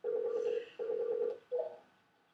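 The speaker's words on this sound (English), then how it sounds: "That is the phone ringing." A telephone ring tone heard through a handset: two long electronic rings and the start of a third, clear and moderately loud, with no talking.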